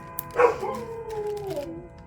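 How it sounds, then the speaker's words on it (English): A husky howls in a long, wavering, singing tone that starts loud with a sharp rise, then slides and trails off over about two seconds, close to the mic indoors with no talking. "That's the husky in him. A little bit of a singer."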